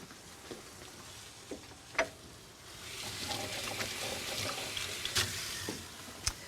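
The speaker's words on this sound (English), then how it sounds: "now I'm just gonna get my hands washed" Hands washed under a running kitchen tap, a steady splashing stream rising partway through alongside some clinks and knocks, close and moderately loud with no talking.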